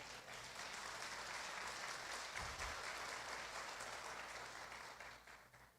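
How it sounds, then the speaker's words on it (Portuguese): An audience applauds during a Brazilian evangelical church service, a steady wash of clapping at low volume that continues evenly for several seconds before thinning out at the end. "Você pode aplaudir ao nome do Senhor Jesus"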